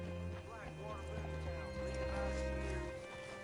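A horse in the video game Red Dead Redemption 2 clip-clops and snorts, with a brief whinny, under continuous music and a talking voice, fairly quiet overall.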